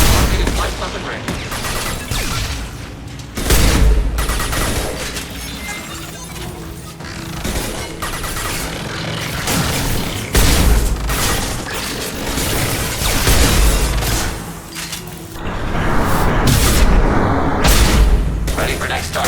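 A hacked defensive turret firing in Mass Effect 2 during a fight against geth heretics, repeated loud bursts of automatic fire and booming impacts across a chaotic battle, with spoken voices over the gunfire.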